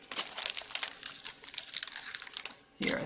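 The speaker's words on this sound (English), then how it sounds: "And let's trim the other side too." Stampin' Up! cardstock trimmed for a Valentine's Day card, a rapid series of close crisp slicing and crinkling paper sounds for most of the stretch, ending in a brief louder rustle.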